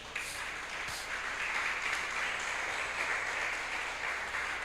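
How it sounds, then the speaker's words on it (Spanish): Church congregation applauding together, a dense, even wash of many hands clapping that carries steadily at moderate level from start to finish, without speech over it. "Denle un aplauso al Señor"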